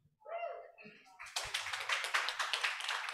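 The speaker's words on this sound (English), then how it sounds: "Round of applause for Pak Diki one last time." Audience applause at a business summit starts after a brief spoken word and grows into sustained clapping from a crowd, loud and continuous to the end.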